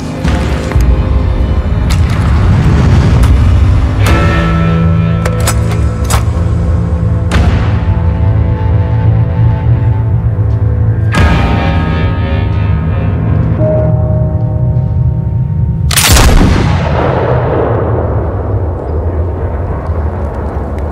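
Heavy gunfire in a period drama setting: loud, close shots crack out irregularly over a dense, rumbling background, ending with one big blast that rings and decays.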